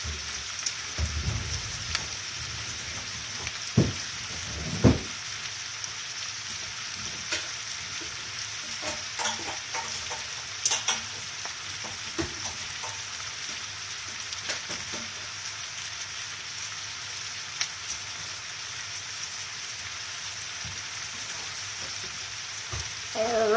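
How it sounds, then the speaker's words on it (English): Onions sautéing in a pan give a steady, moderately loud sizzle and crackle with no speech, joined by a few sharper clicks and bumps of the pan or utensils. "Now those onions are going to be cooking for a while."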